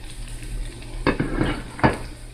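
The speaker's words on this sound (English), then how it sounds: "I'm going to add some fresh chopped onions." Chopped onions tipped into ground beef browning in a frying pan for tacos, giving two sharp clattering bursts of food hitting the pan over a steady low sizzle and stirring.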